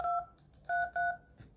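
Keypad button tones from an LG V60 phone on T-Mobile: three short, clean electronic beeps, the first alone and the last two in quick succession, close and clear with no talk.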